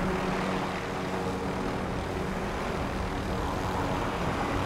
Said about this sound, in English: Stay in the helicopter.